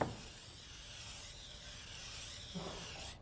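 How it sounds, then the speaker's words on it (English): Cooking spray hisses steadily into a 9 by 13 casserole dish, a continuous close spray lasting about three seconds with no talk. "that I want to spray really well with cooking spray"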